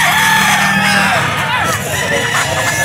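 Roosters crow loudly and close together at a gamefowl farm, with overlapping calls and voices talking in the background.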